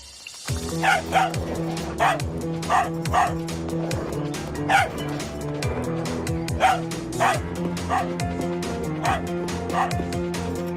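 A dog yips and barks repeatedly in short, high bursts over a dense, busy musical background, fairly close and persistent.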